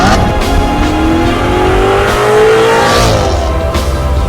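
A sports car accelerating hard, its engine note sweeping steadily upward in a loud, continuous roar that rises over several seconds.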